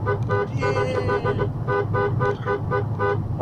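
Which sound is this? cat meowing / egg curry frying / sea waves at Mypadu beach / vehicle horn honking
vehicle horn honking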